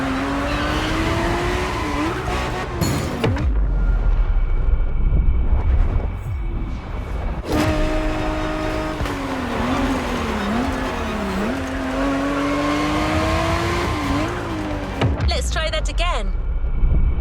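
Ferrari race car engines in The Crew Motorfest, loud revving with pitch sweeping up and down through gear changes, broken by sharp tire squeals and bursts of impact noise.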